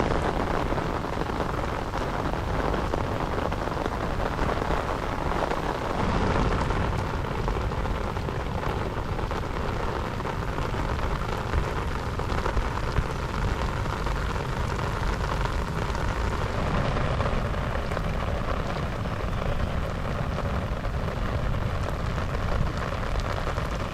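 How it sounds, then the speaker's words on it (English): Steady rain falls continuously on a golf course at Unico Grande, a dense even patter that holds at moderate loudness throughout with no voices. "It's still raining quite a bit"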